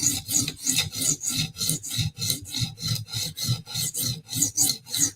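A knife blade is drawn over a whetstone in quick, even rasping strokes, about three per second. The scraping is close and crisp, with no talking over it.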